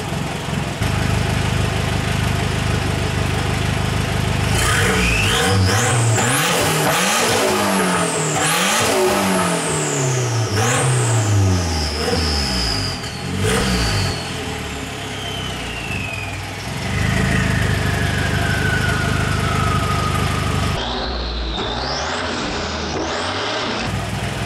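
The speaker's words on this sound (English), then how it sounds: "Give it one more little rev here." Nissan GA16DET turbocharged engine in a car with a short shifter and stage 3 clutch, revved repeatedly and loudly over a rumbling idle, the pitch rising and falling in several sharp sweeps with no speech.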